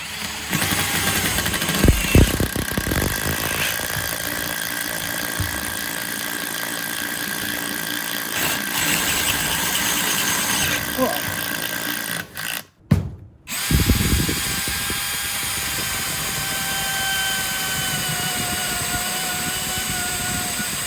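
A power drill with a hole saw grinds steadily through material, loud and close, with a brief stop and restart partway before cutting on.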